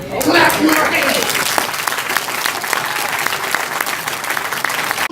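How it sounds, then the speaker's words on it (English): Audience at a mental health conference claps hands steadily, a dense, continuous roar of applause filling the room, with a voice speaking over the start. "Clap your hands."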